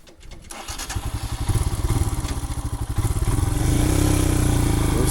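A Royal Enfield Himalayan motorcycle engine on a rocky jeep trail falters with an uneven, thumping chug that swells louder and rougher toward the end, heard close with no talk.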